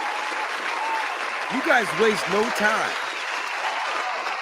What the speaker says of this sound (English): Round of applause to everybody out there.